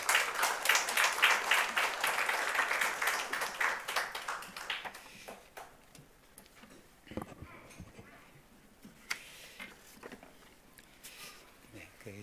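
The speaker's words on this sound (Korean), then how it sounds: "우리 박수로 환영하겠습니다" A church congregation claps to welcome a visiting pastor, a dense round of applause that fades after about five seconds into scattered claps and room noise.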